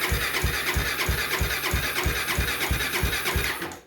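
A Honda 400EX ATV engine that had sat unused for three years runs after starting, with a steady, rapid, throbbing exhaust pulse at close range that holds even and then cuts off at the end.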